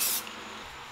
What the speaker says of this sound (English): I've spray painted it black.